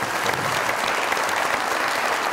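Studio audience of a comedy talk show clapping, a loud continuous burst of many hands throughout, close and full, with no talk heard.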